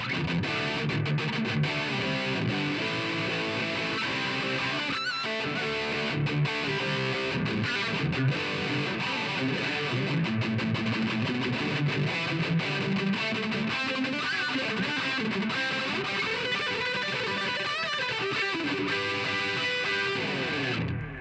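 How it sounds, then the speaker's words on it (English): Electric guitar on the bridge pickup through an Orange Micro Dark amp and a Tube Screamer overdrive pedal, thick high-gain distorted chords and riffs ringing continuously at steady volume. "I'm going to hit it with a tube screamer and show you guys the higher gain tones"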